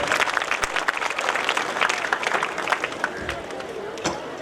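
Loud audience applause at a Cambridge Hathan school event, a dense and steady burst of clapping with a faint murmur of the crowd underneath.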